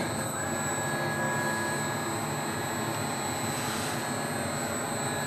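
A Corghi tire changer turns a wheel with a steady, continuous mechanical whir and high-pitched hum, a constant near drone with no breaks and no speech.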